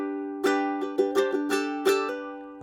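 Ukulele major chord strummed several times in an uneven rhythm, bright and close with ringing strings, without any voice.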